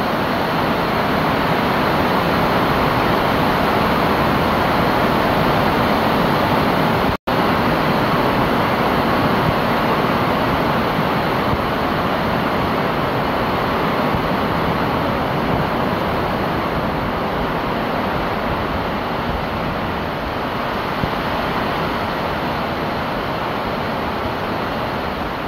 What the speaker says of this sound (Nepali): मुसलधारे पानी।